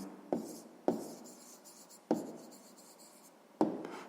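Pen strokes on paper while a sixth-grade math answer is written down, four sharp taps at roughly even gaps, each trailing into a soft scratching rub, close and quiet with no talk.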